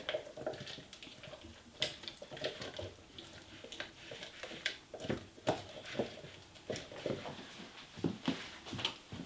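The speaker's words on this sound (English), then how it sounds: "And I'm just going to stir that around by hand." Frozen cranberries are stirred by hand into keto orange cranberry muffin batter, giving soft, irregular scraping and clacking of a utensil against a bowl, fairly quiet and continuous with no talking.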